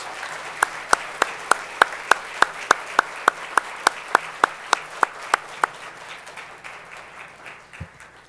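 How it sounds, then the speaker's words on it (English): Audience applause at a hall of fame induction ceremony, with loud, evenly spaced rhythmic claps standing out over a steady crowd wash that fades away after about six seconds. "Let's have a big round of applause for these Hall of Famers."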